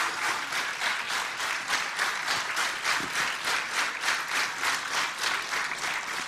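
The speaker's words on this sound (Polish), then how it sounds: "Ogromne brawa, proszę Państwa." A concert audience at a jazz evening of Polish patriotic songs gives sustained applause, many hands clapping in a loud, dense, rhythmic wave that carries on steadily throughout.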